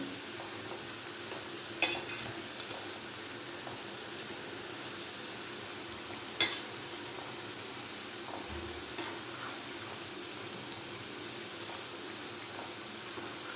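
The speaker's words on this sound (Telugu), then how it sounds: "ఇలా బ్రౌన్ కలర్ వచ్చే వరకు వేయించుకోవాలి" Potatoes fry in a pan for a potato fry dish: a soft, steady sizzle runs throughout, with a couple of sharp scrapes and clicks as a spoon stirs them.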